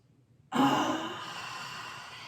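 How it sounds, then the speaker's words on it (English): A single strong breath is pushed out through the mouth during a chair yoga class, a sudden, close, breathy whoosh that fades gradually over about two seconds after a brief quiet moment. "the exhale, we'd let it out strongly out of the mouth"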